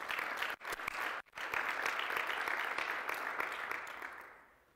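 A church congregation claps during a fasting-and-prayer service, a dense sustained round of applause broken by two brief gaps and fading out toward the end.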